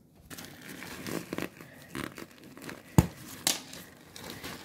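Plastic packaging of a two-man tent being peeled open up close, with crinkling and tearing in irregular bursts and a couple of sharper rips.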